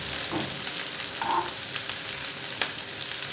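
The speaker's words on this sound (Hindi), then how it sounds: "हरी मिर्चों को भी फ्राई" Green chillies fry in butter for Afghani chapli kebabs, giving a steady close sizzle with a few soft stirring scrapes and brief clinks, and no voices.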